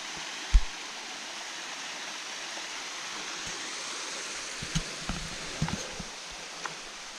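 A forest stream running over white rocks after floods, giving a steady broadband rush that fills the whole stretch, with a few close thuds and knocks over it and no talk.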